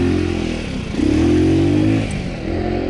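A tuned scooter set up for enduro riding, its small engine droning steadily and close, with the pitch climbing and holding as the throttle opens partway, plus some rattling clatter throughout and no talk.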